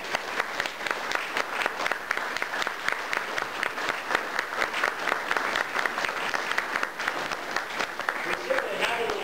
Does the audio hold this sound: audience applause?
yes